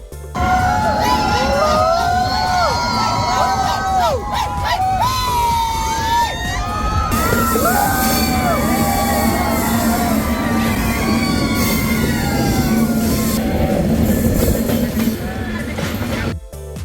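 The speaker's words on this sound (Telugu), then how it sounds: "ట్రైన్ టన్నల్స్ నుంచి వెళ్తున్నప్పుడు జనం మాత్రం భలే అరుస్తున్నారు" Passengers on a train journey to Araku shout and cheer loudly as the train passes through tunnels. A dense crowd of whooping voices rides over steady rolling train noise, growing fuller and more continuous partway through.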